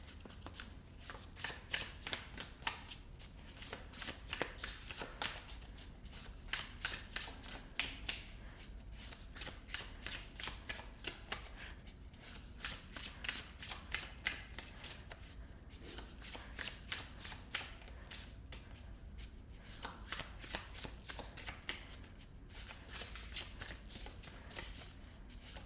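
Tarot cards shuffled by hand in repeated bursts of crisp riffling and flicking, steady and close, with brief pauses between rounds and no voices.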